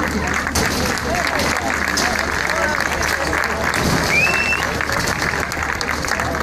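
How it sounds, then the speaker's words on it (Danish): An outdoor crowd at a town festival prize ceremony gives the canoeists on stage a big round of applause. The clapping is dense and steady throughout. "Giv dem et stor hånd."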